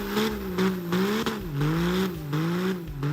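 A 4th Gen Cummins diesel in a 2010–2018 Ram 2500 or 3500 truck revving repeatedly, its pitch rising and falling in short pulses with a throaty, close-up engine tone.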